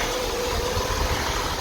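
An Austin Ambassador Vanden Plas engine idles steadily and close by with carburettors set a touch fast, a continuous even rumble with a faint tick running through it and no voices.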